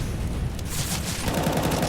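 Rapid gunfire from a Counter-Strike match at a BLAST Pro Series Copenhagen 2019 grand final, FaZe versus NiP, with dense bursts of shots rattling continuously and growing busier in the second half, no voices over it.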